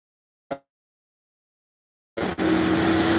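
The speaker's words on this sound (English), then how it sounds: "Oh, here comes a big truck." A big truck rolls past on a road, its engine and tire noise arriving abruptly loud and holding steady and close, after a brief knock and a long stretch of silence.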